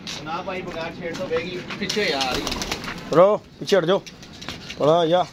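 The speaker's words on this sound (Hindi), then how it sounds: "ये कबूतरी आ रही है" A female pigeon coos in several soft, rolling bursts near the microphone, while people talk loudly over and between the calls.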